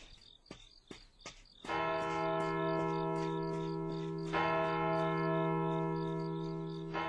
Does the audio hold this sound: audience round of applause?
no